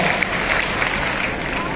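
Audience applause at an award ceremony in Bhavnagar, a dense continuous wash of many hands clapping together, loud and steady across the whole short stretch.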